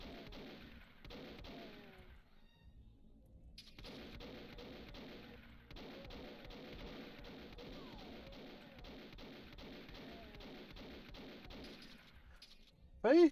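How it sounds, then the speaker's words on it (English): Pistols fire in the video game Doom with two shots per trigger click, heard as rapid, loud, repeated bursts of gunshots in steady volleys. A sharp loud hit closes the sequence. "It is 2 shots per click."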